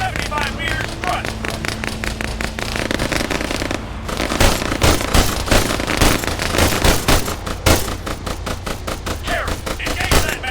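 Bursts of automatic machine-gun fire crackle in an Arma 3 firefight on Altis, dense rapid volleys that run nearly throughout, with shouted voices mixed in.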